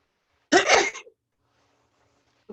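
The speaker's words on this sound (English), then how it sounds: "I got to sneeze." A single sharp, loud sneeze bursts out close to the microphone, then a brief tail and near silence follow, with a faint small sound right at the end.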